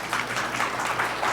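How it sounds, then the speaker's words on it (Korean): Church audience applauding for a deacon about to give a testimony during a service, a steady dense wash of clapping held at even loudness throughout, with no talk over it. "박수 부탁드립니다."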